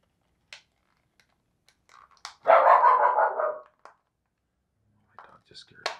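A dog barks once, loud and close, partway through, with small clicks and faint quiet sounds of work on a PS4 controller before and after.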